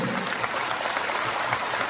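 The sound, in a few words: crowd applause at a political gathering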